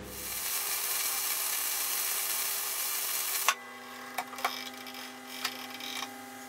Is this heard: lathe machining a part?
yes